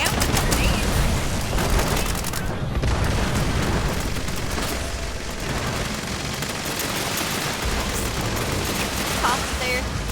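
Grenade blasts and heavy gunfire during an alien-invasion event in Fallout 76, a continuous loud barrage of booms and shots with a voice talking over the chaos.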